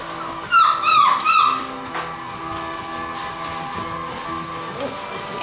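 A puppy lets out a quick run of high whimpers and yips close by in the first seconds, followed by quieter room sound with faint soft noises.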